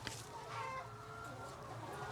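Chickens in a winter layer house cluck softly while pecking at courgettes, a steady close flock murmur with a few brief sharper calls and a faint crow, continuous and low throughout.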